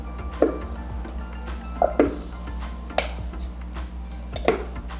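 Thick glow-in-the-dark slime made from glue and activator is stirred in a container, giving a few sharp scraping clacks of the utensil against the sides amid a steady low hum.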